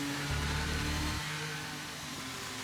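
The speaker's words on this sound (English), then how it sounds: "going completely flat out for the first 2 parts" An F1 23 video-game racing car engine held flat out at Silverstone, a loud, sustained high-revving buzz that shifts pitch midway and then carries on steadily.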